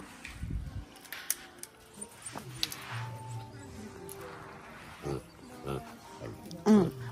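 Several coatis being fed treats such as cabbage, giving short grunting, snorting calls with chewing and rustling, amid children's chatter and adult voices nearby.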